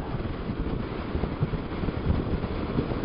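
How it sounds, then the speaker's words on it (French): Steady gusty wind buffets the microphone, a constant rushing roar with low thumps and no voices. "il y a énormément de vent aujourd'hui"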